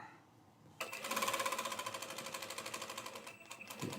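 A sewing machine stitches a main seam half an inch from the serged edge of shirt fabric, starting abruptly after a quiet moment and running in a fast, even mechanical rhythm before slowing near the end.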